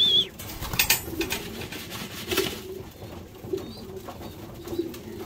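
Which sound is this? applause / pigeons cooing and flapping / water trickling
pigeons cooing and flapping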